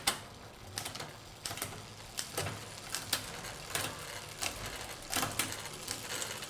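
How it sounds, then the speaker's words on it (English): Bicycle gears clicking as the chain is shifted up through the sprockets on a freshly cable-tensioned drivetrain, a steady series of close, crisp ratcheting clicks about every half second over a faint freewheel whir. "So if we now cycle through our gears again"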